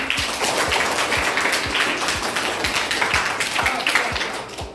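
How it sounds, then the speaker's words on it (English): A class of fourth-grade students claps hands in a music lesson, a steady run of rapid, overlapping claps filling the room for several seconds, close and fairly even in loudness with no talk over it. "Clapping."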